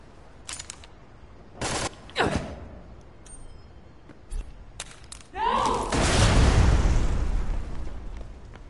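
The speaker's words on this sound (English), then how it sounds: "They're just flash grenades, basically." Flash grenades going off in the Tales from the Borderlands video game: several sharp bangs in the first half, then a long, loud roaring burst that fills the closing seconds.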